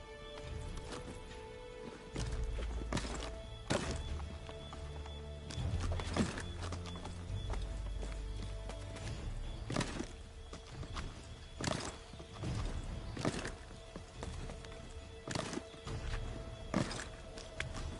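Horse hooves clip-clop in Assassin's Creed 3 Remastered, a steady trotting rhythm of close, distinct hoofbeats with occasional thuds and a brief whinny.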